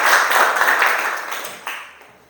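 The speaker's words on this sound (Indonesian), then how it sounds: "tepuk tangan untuk kelompok 4" Classroom applause for a student group, a loud burst of clapping that fades out over about two seconds, ending with a few scattered claps.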